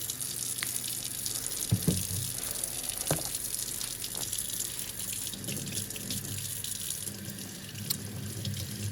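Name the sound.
tap water washing salt off cured beef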